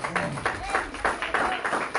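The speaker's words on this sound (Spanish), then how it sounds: "Si le van a dar un aplauso al Señor" Rhythmic group clapping at a church service in a steady beat, several pulses per second, fairly loud and close, with a faint voice mixed in.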